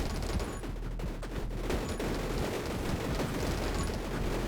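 Dense, continuous rapid-fire shooting in the game 20 Minutes Till Dawn, a steady wall of overlapping shots and effects that stays loud from start to finish.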